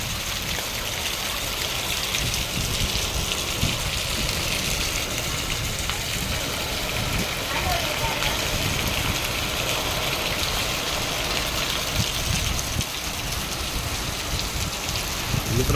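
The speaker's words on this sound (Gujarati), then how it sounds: "પવન સાથે ધોધમાર વરસાદ" Downpour in Lakhanka village with wind, a dense, unbroken hiss of rain on surfaces and trickling water that holds at a loud, even level throughout.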